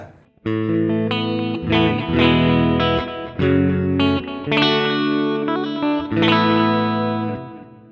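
Clean electric guitar through a Digitech RP500 playing chords, each strummed chord ringing out clearly with a smooth, bright tone and short pauses between changes; no voices.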